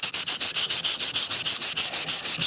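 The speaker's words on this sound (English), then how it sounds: "Just sanding it off gonna make it look better." A car surface is hand-sanded in fast, regular back-and-forth strokes, a loud, close scratchy rasp pulsing about six times a second with no speech.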